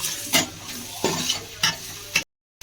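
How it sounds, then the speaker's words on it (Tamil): Mint and fenugreek leaves sauté in a pan for chicken donne biryani, a soft steady sizzle broken by four distinct scraping stir strokes close by before the sound cuts out. "பாருங்க, புதினாவும் அந்த கீரையும் நல்லா வதங்கிடுச்சு"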